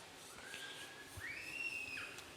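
Compressed air hissing softly onto a glass bubble during glassblowing, a faint airy whistle that rises and bends in pitch for about two seconds.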